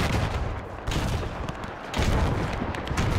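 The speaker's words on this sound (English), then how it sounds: "I'm hearing machine guns" Machine gun and rifle fire crackle continuously through a WW1 battle in a video game, dense overlapping bursts with distant booms, loud and sustained for the whole stretch.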